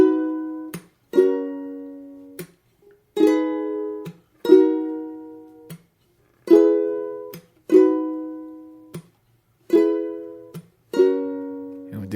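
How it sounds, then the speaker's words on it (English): Ukulele playing a song's chord progression with single down strums, each ringing briefly before being cut short by muted strings, leaving gaps of silence in a slow, even rhythm, close and clear with no talking. "an easy strum pattern that we can do is just down strums and then muting the strings"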